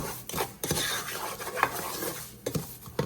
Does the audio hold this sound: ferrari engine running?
no